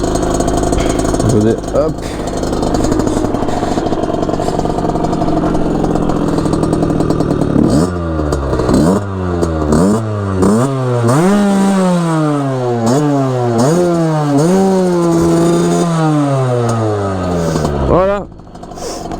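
A small Derbi engine idles roughly in neutral, then revs up and down in repeated rising and falling sweeps, close and loud, with a brief spoken word early on.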